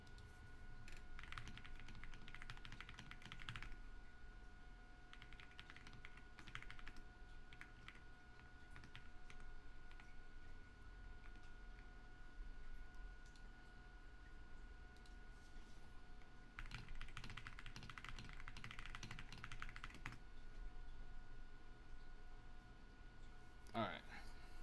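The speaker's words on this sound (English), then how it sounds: "I like your keyboard. Sounds good." Computer keyboard typing in bursts of rapid clicks, moderately close, with pauses between runs and a steady background hum; no speech during the keystrokes.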